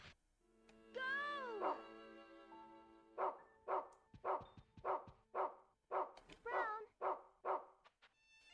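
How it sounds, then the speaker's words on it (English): A dog in the video game Rule of Rose gives a run of sharp, evenly spaced barks after an opening whine, loud and close, with a player talking now and then. "I wish I could pet the puppy."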